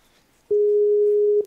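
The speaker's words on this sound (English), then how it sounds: "that ringing noise is loud" Loud steady single-pitch telephone tone during an outgoing cold call, one continuous beep lasting about a second, starting abruptly and cutting off before a faint click.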